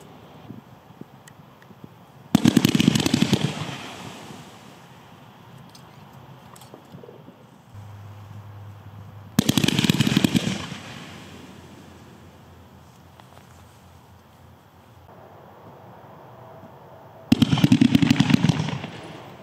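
A 15-shot super sweep fireworks cake fires in three separate loud crackling bursts of rapid shots, each lasting about a second or two, with quiet gaps of faint outdoor ambience between them.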